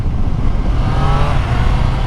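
Triumph Street Triple 765 Moto2 Edition motorcycle pulling hard on an open road, a loud, steady close engine roar with wind rush and no break across the short stretch.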